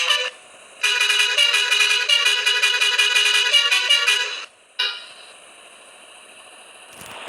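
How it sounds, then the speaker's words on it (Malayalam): Bus horn in a bus simulator game blaring loud and close in a long sustained honk, followed by a short separate toot and quieter in-game engine hum. "ഇത് 3 ഹോണടി കാണിച്ചു തരാം."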